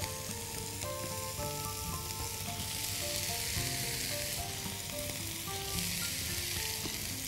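Onions and colored peppers fry in a pan with a steady, close sizzle and soft stirring sounds, no voices.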